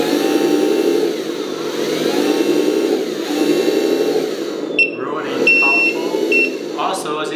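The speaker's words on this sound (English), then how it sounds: "We will hear the engine sound." A steady mid-pitched engine hum from the sound module of a 1/14-scale MAN TGS 8x8 RC hydraulic dump truck runs throughout, with faint high electronic beeps and small clicks toward the end.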